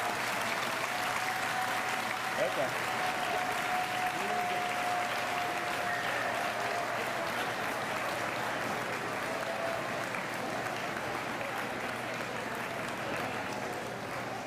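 Sustained audience applause at a competition night event fills the room, an even, continuous wash of clapping that fades slightly near the end, with a brief word spoken under it.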